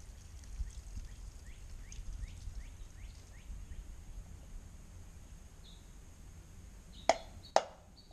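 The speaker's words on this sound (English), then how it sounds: "I'm gonna dump the rest of the corn into the oatmeal" Corn being dumped into oatmeal for carp bait makes a run of soft, faint pattering plops, followed by two sharp, louder knocks near the end.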